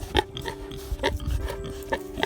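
A large pig grunts repeatedly after being woken from a nap, several short low grunts close by in an irregular rhythm.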